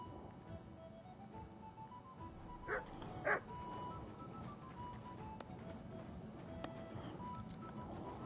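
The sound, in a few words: dog Mutt barking in video game Kingdom Come Deliverance 2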